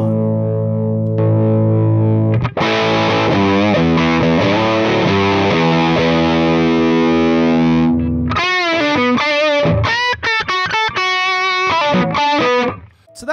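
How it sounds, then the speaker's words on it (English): An electric guitar runs through a Sur Badger amp model on an AX8 processor, first sustained distorted chords, then a thicker, more saturated run of fast picked notes with a clean boost pushing the amp, loud and continuous, no talk. "Just adding that 10 dB straight clean boost right into the amp"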